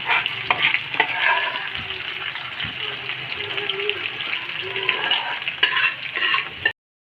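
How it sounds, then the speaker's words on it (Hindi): Saag sizzles steadily in hot oil in a Punjabi home kitchen, with a dense, continuous crackle and occasional stirring scrapes, loud and close throughout before stopping abruptly. "ये हमारा साग जो है वो फ्राई हो गया।"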